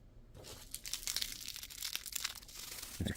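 Foil cover on a vinyl repair kit torn open by hand, a close, steady run of crinkly ripping and crackling that lasts a few seconds and ends in a sharper final tear.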